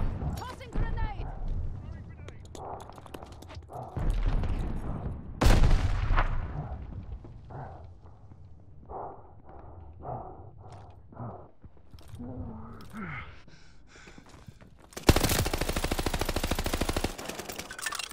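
Heavy gunfire in a Call of Duty: Vanguard Search and Destroy match, bursts of loud automatic shots and explosions, with shouted voices over it and a dense final volley of rapid fire.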